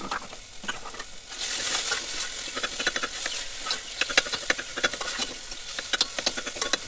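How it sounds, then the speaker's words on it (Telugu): Tomatoes frying in oil for an avarekai seed curry, a bright continuous sizzle with rapid crackling pops and occasional stirring clatter, close and moderately loud. "నూనెలో బాగా వేయించాలి."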